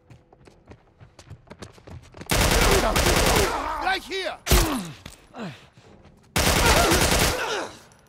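Bursts of rapid automatic gunfire crackle in long loud volleys with single shots in between in The Last of Us Part I, while a voice briefly shouts over the action.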